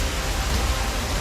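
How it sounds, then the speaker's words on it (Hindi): Heavy monsoon-style rain pouring down steadily, a dense continuous roar of water hitting surfaces, loud and close with no pauses. "कितनी भीषण बरसात हो रही है"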